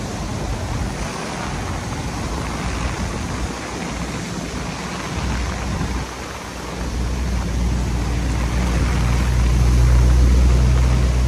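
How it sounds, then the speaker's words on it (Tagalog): Heavy typhoon rain pours over Manila Bay, a dense, unbroken roaring hiss with a deep wind rumble beneath that swells louder toward the end. "Dito muna tayo kasi medyo lumalakas na po yung ulan."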